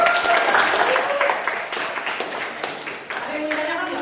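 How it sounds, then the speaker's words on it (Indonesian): Lecture audience at the Institut Seni Indonesia Yogyakarta breaks into applause, a moderate patter of clapping that tapers off while a voice speaks over it. "Tepuk tangan kita semua."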